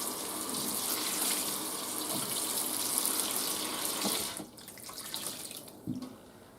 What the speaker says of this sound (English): So all I'm using is hot water.